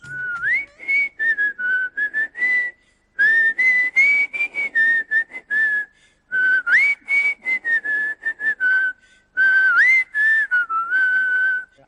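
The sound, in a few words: whistling imitating Deiva Thirumagan film background music whistle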